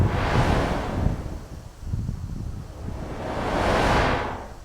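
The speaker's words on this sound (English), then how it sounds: "It's windy out here" Wind gusts across open ground outdoors at a national monument, rushing in two strong swells with a calmer lull between, buffeting the microphone close up.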